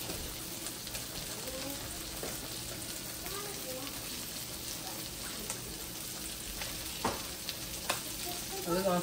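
Minced garlic and Creole seasoning fry in a pan with a steady, close sizzle, punctuated near the end by a few louder stirring scrapes and pops.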